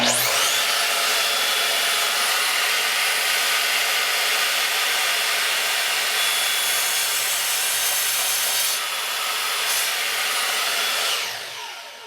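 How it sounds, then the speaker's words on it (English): A miter saw slices through wood at an angle, giving a loud, steady high-pitched whine for about eleven seconds before the blade spins down and fades. "I'm going to make another cut, this time at an angle"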